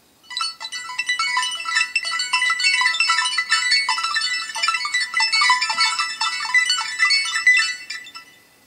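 A stock ringtone on a ZTE Open running Firefox OS plays as a bright, busy chiming melody of sparkling tones that rings steadily at close range for several seconds without any talk.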